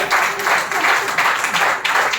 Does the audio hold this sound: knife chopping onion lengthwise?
no